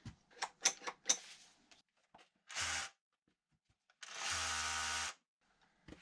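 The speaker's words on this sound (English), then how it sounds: "So I'll get a thicker drill bit out and see if I can make a bigger hole." Power drill fitted with a thick, oversized bit boring a larger hole for tiny-house shower plumbing: some light clicks and handling knocks, then two loud whirring bursts, one short and one lasting nearly a second, each stopping abruptly.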